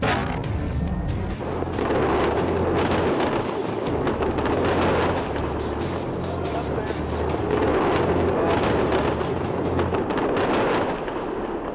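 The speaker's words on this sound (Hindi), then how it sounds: "बारूद के ढेर पर बैठे मिडिल ईस्ट में हर दिन एक विस्फोट और भारी बमबारी देखी जा रही है" Heavy artillery bombardment and explosions in the Middle East, a dense, continuous barrage of booms and crackling blasts that stays loud and sustained throughout, with no break in the rumbling.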